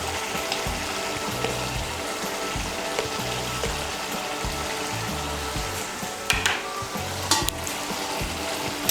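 Bottle gourd with fish head curry is stirred in a pan with chopped green chillies and coriander, giving a steady wet sizzle under repeated scraping and clinking of a spoon, close and continuous.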